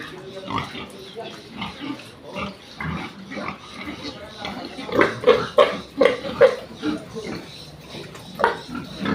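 Pigs and piglets on a farm grunt and oink in a run of short, rhythmic bursts, some close and loud, with a person talking intermittently over them.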